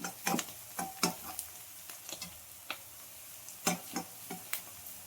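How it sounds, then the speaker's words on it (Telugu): Green chilies, carrot and beans cook in a little oil, giving soft scraping stirs and light clicks against the pan in an irregular rhythm, faint and close, with no talk. "పచ్చిమిర్చి క్యారెట్ బీన్స్ కొద్దిగా ఆయిల్లో మగ్గించాలి"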